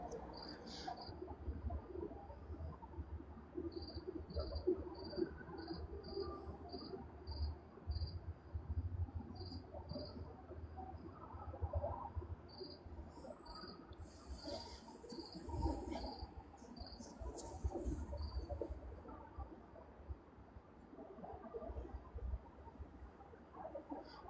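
Night crickets chirp in steady, evenly spaced pulses, some overlapping in quick clusters, faint and moderately distant over a low rumbling background with no voices.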